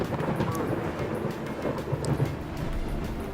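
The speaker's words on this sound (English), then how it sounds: "Hurry up, this storm is coming in fast." A thunderstorm in the video game Dyscourse gives a steady wash of rain with low rumbling thunder underneath, loud and continuous throughout.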